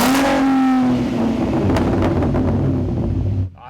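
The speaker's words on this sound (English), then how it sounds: "It's kind of deeper down low, gets a little rowdy as it gets higher in the RPM band." A 2013 V6 Ford Mustang with a MagnaFlow Race Series axle-back exhaust revs up from a deep low note to a rising, rowdy higher-RPM roar, then drops away, loud and near with wind buffeting the microphone.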